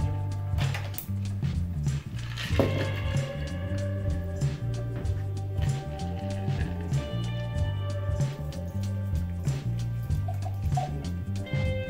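A French 75 cocktail being poured into a glass, liquid dripping and trickling steadily for several seconds under continuous background music.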